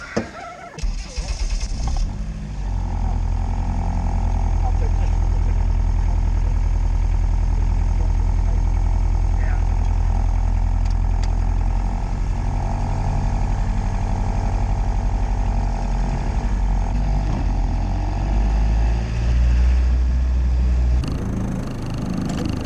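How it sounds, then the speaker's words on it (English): A car engine drones steadily from inside the cabin, a low continuous rumble with road noise that holds for the whole stretch. "powerful engine in it, isn't it?"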